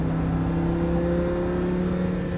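Lamborghini Huracan on a race track, engine droning steadily at sustained throttle with a strong, even harmonic hum, loud and close throughout with no voices.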